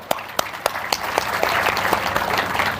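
A crowd at a Guru Purnima gathering in a temple courtyard breaks into applause, starting with a few separate sharp claps that quickly swell into steady, dense clapping from many hands.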